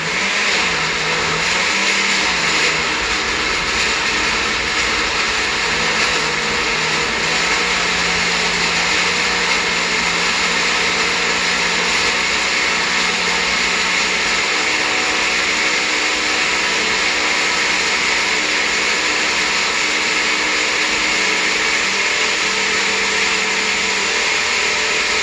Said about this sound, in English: Don't want to kill people with the sound of the blender.